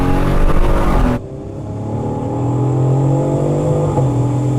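A BMW M3 Competition and a Supra MK4 accelerate hard side by side in a drag race, engines roaring loud and close, with a sharp shift in tone early on and then a sustained, steadily climbing drone.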